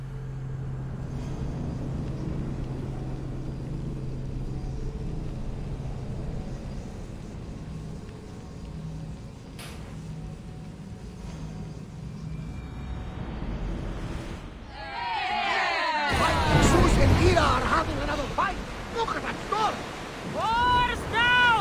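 A sailing ship on the open sea in Assassin's Creed Odyssey, steady wind and wash of waves rolling under the hull for a long stretch before shouted voices of the crew break in over the water.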